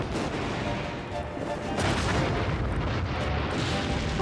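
A dense, rumbling explosion effect fills a theme-park ride, a sustained roar of booms and crashing noise that swells slightly partway through and stays loud throughout, with no voices.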